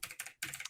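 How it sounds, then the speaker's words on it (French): A computer keyboard is typed on in two short quick bursts of crisp, close clicking separated by a brief pause, with no voices. "vous allez entendre mon clavier encore une fois"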